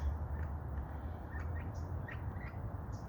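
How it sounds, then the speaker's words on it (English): Scattered high calls and chirps of feral Pasadena parrots over a steady low background hum, faint and somewhat distant, no voices. "The also known Pasadena parrots."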